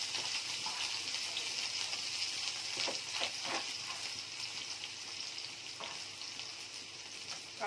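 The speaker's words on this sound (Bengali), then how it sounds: "তেল মধ্যে একটু পেঁয়াজটা দিয়ে দিই" Onion fries in hot oil with a soft, steady sizzling hiss and occasional faint crackles, fairly quiet throughout, with no voices.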